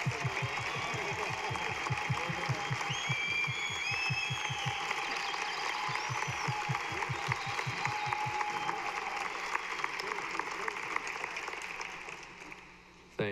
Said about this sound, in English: If you all could just give them a big round of applause.